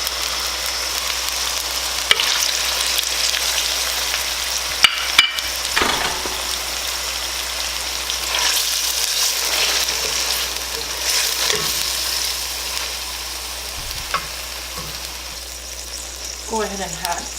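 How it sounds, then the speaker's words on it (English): Shrimp fry in hot oil with garlic and ginger, making a continuous loud sizzle with scattered pops and occasional stirring scrapes, and a voice talks faintly underneath. "I'm going to go ahead and add the shrimp"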